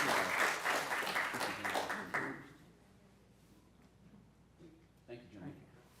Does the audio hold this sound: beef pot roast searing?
no